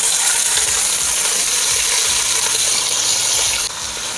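Snow peas searing in chorizo-infused oil in a pot, giving a loud, steady broadband sizzle that runs throughout, dropping slightly in level near the end.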